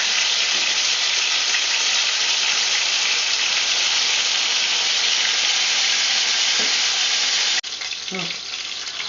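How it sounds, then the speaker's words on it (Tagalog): Tilapia fish fries in a pan over low heat, a steady, loud, broadband sizzle that runs unbroken and close, easing slightly near the end as the fish is handled. "Now let's turn the other side to be fried."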